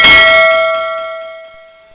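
A single bright bell chime rings out loudly as a notification sound effect, its clear metallic tone decaying smoothly over about two seconds with nothing else heard.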